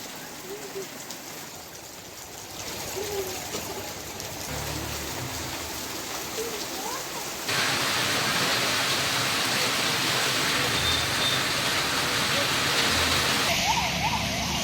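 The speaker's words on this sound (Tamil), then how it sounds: "செங்கல்பட்டு, திருவள்ளூர், வந்தவாசி ஆகிய பகுதிகளில் வெளுத்து வாங்கிய கனமழை." Heavy rain falls across Chengalpattu, Tiruvallur and Vandavasi in a constant hiss that grows louder partway through, with a siren-like tone and a voice faintly audible beneath the downpour.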